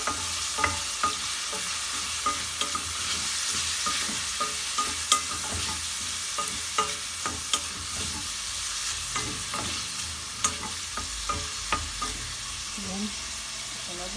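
Bihon noodles stir-fry with fish balls and squid balls in a pan, a steady sizzle punctuated by regular scraping and tapping of the utensil against the pan, with no talk.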